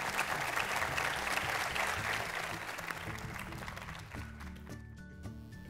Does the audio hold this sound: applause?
yes